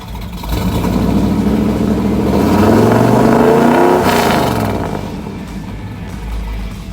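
A 1971 Chevrolet K5 Blazer engine revs through a new exhaust, climbing in pitch to a peak and then dropping back, with a deep throaty exhaust rumble close by.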